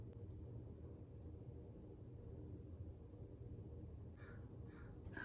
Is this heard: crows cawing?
yes